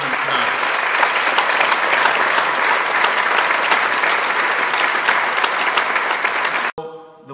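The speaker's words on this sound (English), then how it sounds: "I would like you all to give a big round of applause to all the children tonight." A large audience claps for children at a Warrington community event, loud sustained applause that fills the whole stretch before cutting off abruptly near the end.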